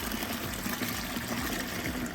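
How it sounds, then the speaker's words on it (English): Dirty water is sucked out of car upholstery during a deep clean, a steady close gurgling and trickling flow of liquid with no voices over it. "And we're gonna pull the dirty water out in 3, 2, 1."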